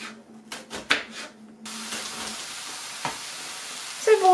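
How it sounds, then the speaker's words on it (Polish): Finely diced onion frying in a pan gives a steady, moderately loud sizzle, preceded by a few clattering stirring sounds and a low hum. "Cebula pokrojona w drobną kostkę i już mi się tu smaży."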